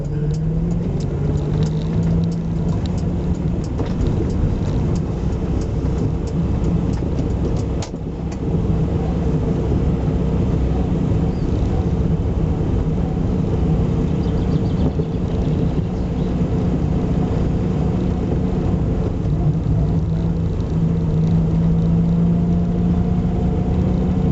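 A small classic car is driven along, its engine and road rumble a steady, close, droning noise throughout with no one talking.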